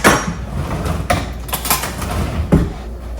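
A knife cuts through big lemons on a board, giving several sharp knocks and thuds at irregular intervals, close and fairly loud, with no talking.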